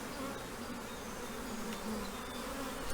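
Honey bees buzzing around an open hive during a colony split, a dense, steady droning swarm close to the microphone, continuous with no voices.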